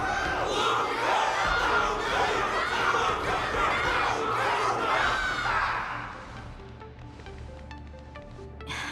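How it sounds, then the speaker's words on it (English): A large crowd roars and cheers during a battle event in the video game Honkai Star Rail, a dense, loud wall of shouting voices that holds steady and then fades into quieter background sound near the end. "Can't you hear? Everyone's cheering for you, Luca!"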